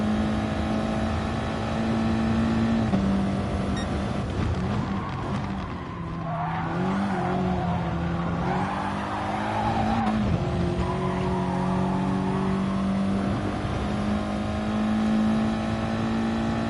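A race car in the video game GT Sport takes a curve at speed, its engine holding a steady droning pitch with shifts and brief tire squeal, loud and continuous with no talking.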